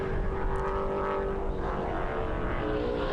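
Vintage race cars, a Corvette and a Camaro in an SVRA Group 10 race at the Atlanta SpeedTour, drone steadily on track as one sustained, moderately distant engine roar with a faint tonal whine, without any voices.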